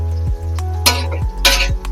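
Onions and spices frying in oil for rabbit biryani, stirred with a spoon in a pan, giving a steady close sizzle with a few scraping strokes and two brief louder hissing surges.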